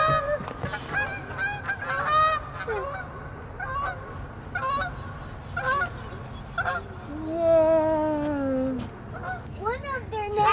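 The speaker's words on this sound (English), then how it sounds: "Look at the geese." Geese honk repeatedly and loudly nearby at Yates Mill Park, overlapping calls with a voice and other chatter mixed in, against steady outdoor background noise.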